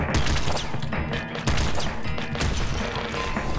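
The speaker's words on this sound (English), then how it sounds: "I like how the explosions light up the area." Loud explosions and heavy gunfire in the video game Nuclear Throne, a dense run of crashing blasts and thuds that keeps up almost without a break, with sharper bangs standing out at intervals.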